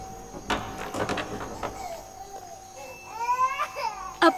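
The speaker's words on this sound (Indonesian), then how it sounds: "Aku lewat sini sewaktu mendengar Kisin menangis." An infant crying in a palace chamber of a historical drama, with short wailing bursts rising and falling amid faint room noise and soft knocks, fairly close.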